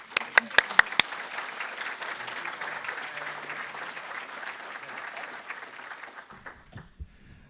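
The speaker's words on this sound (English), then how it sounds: "And now we'll clap for Jeff." An audience claps for Jeff Burkhart at a literacy nonprofit's event, opening with a few sharp claps that swell into steady, dense applause before fading out near the end.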